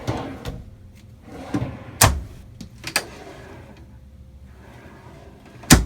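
Several sharp clunks and knocks of drawers sliding open and shut in a Winnebago Era 70X Mercedes Sprinter camper van kitchen, spaced irregularly over a quiet room background.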